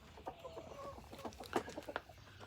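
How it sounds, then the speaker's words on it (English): Chickens in a coop cluck and murmur in short, overlapping calls, fairly close but quiet, with a few sharper squawks near the middle. "Come on, you stupid chickens."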